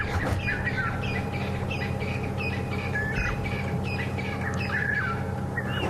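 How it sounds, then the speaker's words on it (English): Levaillant's cuckoo calling in the African bush at sunset, its repeated bright, squawking notes sounding fairly close over a steady low rumble from a vehicle engine. "It's a Levalance cuckoo, and they have arrived"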